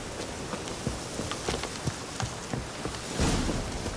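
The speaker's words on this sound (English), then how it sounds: "Looks like rain." Rain falls in The Witcher 3: Hearts of Stone, a steady broadband patter with scattered drop-like ticks that swells briefly near the end, with no voices.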